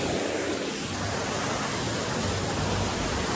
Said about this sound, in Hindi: कैसा लगा ये वाटरफॉल?